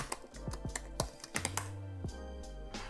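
A git command is typed on a computer keyboard, heard as a quick, close run of about a dozen crisp key clicks in an irregular rhythm, with a longer press near the middle.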